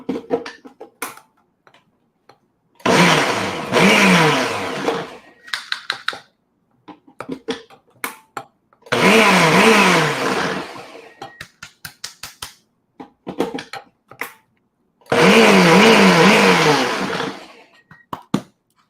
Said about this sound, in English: I'm just going to pop this in the blender for a couple seconds